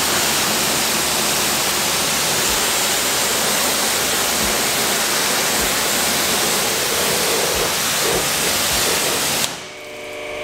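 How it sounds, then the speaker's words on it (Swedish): Pressurized water sprays a car to rinse off degreaser, a loud, continuous rushing hiss that runs for about nine seconds before cutting off abruptly. "Nu spolar vi av avfettningen här."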